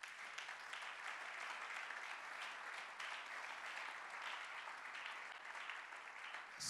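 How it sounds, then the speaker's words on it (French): A church congregation applauds at a sermon, with steady, dense clapping from a crowd, sustained and even at low level, with no clear speech over it. "Est-ce qu'on peut acclamer le Seigneur?"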